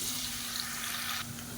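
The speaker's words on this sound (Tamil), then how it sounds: "இப்போ இந்த உருளைக்கிழங்கு எண்ணெயில் போட்டு நல்லா வறுத்து எடுத்துக்கலாம்." Potato pieces frying in hot oil for a dhaba-style potato gravy, a steady hiss and sizzle that drops slightly in intensity near the end, close and moderately quiet.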